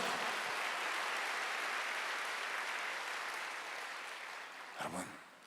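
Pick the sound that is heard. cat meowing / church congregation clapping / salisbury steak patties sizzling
church congregation clapping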